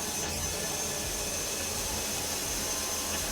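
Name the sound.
power drill running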